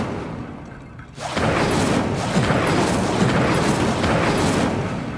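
The Incendio fire spell in Hogwarts Legacy erupts after a second of quiet into a loud, sustained roaring burst of flame with crackling texture that holds steady to the end.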